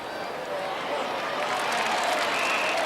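A stadium crowd cheers at the 1982 Norwood v Glenelg grand final, a broad, steady roar of many distant voices that swells slightly and holds. A commentator's voice sits faintly beneath it.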